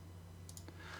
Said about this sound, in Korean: 자, 끝점과 이 선 15 입력하고 엔터 클릭.